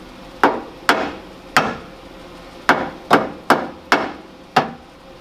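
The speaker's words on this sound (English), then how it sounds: "Get the hammer, we just give it a" A hammer taps a steel winch bumper while it is fitted to a Land Rover, giving seven sharp, close metallic knocks at uneven intervals with short ringing decays, and no talking.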